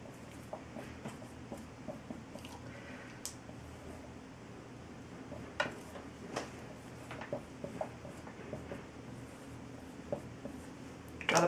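A pen scratches on paper while a fraction multiplication problem is drawn, soft irregular strokes and small taps over a low steady background hum, quiet and close with no talk.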